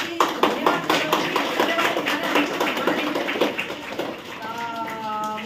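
Clapping from a gathered group at a Children's Day celebration, a dense run of overlapping claps lasting several seconds, mixed with crowd chatter and ending under voices.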